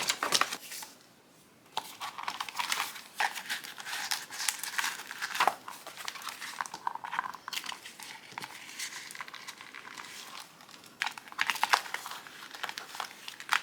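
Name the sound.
stickers being peeled and placed in a notebook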